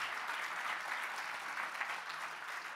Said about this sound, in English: make some applause for every team in this big event